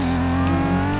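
A car engine steadily revving higher as it picks up speed in the Kanjozoku street racing video game, a loud, sustained tonal drone with no talk.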